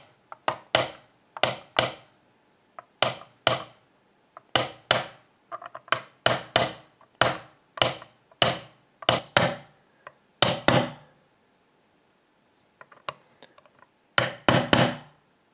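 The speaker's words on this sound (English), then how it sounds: "I'll use a punch and just hammer" Repeated sharp metallic hammer strikes on a punch driven into a padlock, in quick bursts of two or three, close and loud, with short pauses between groups.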